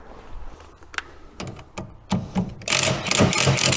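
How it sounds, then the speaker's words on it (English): A spanner undoing a bolt on MGB front suspension: sharp metallic clicks and knocks at irregular intervals, followed by a denser burst of scraping and rattling as the bolt works loose, close and moderately loud. "let's undo that bolt"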